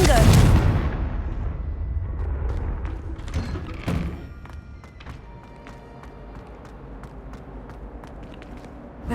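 A Confringo blasting spell goes off in Hogwarts Legacy with a loud, booming burst at the start that fades into a rumbling tail, followed by a smaller thud a few seconds later over a low, steady game ambience.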